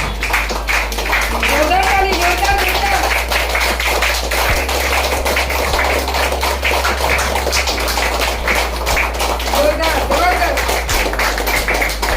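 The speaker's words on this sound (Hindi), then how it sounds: "सब लोग खड़े रह के अपने तालियों से उनका स्वागत करके उनको बुलाओ" At a direct selling business seminar, an audience stands and claps steadily to welcome a speaker to the stage, continuous rhythmic clapping with voices, including a child's, talking over it.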